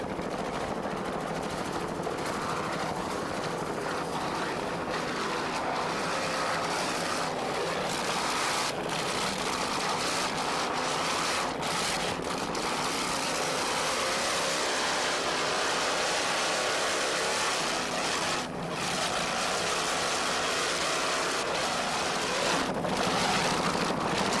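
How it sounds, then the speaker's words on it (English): Twin 750 horsepower Chevy engines drive an offshore powerboat racing off Fort Lauderdale, a steady, loud, dense roar mixed with wind and water rush that holds at a constant level for the whole stretch. "Let's listen to those two 750 horsepower Chevy engines."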